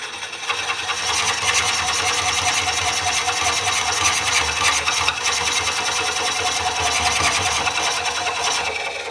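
A Woodcut Bowlsaver Max 4 cutter bites steadily into a wooden bowl blank on a lathe, giving a continuous loud buzzing, rasping cut with rapid repeated texture and no pauses.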